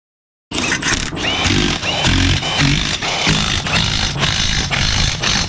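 A 3/8 wrench runs close and loud while tightening the wheel lug nuts on a Toyota Camry, with a harsh buzzing whir broken into several short pulses after a moment of silence.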